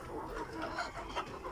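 A laying hen clucking softly and repeatedly close by, low murmuring calls in a short irregular series.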